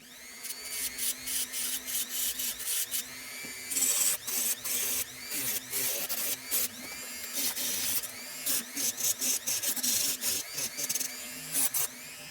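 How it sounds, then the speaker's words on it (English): Sharpening stone scraped repeatedly along the cutting edge of old grass clippers, a rapid series of close, gritty rasping strokes in a steady back-and-forth rhythm with brief gaps. "I'm going to try and run this stone down the cutting edge"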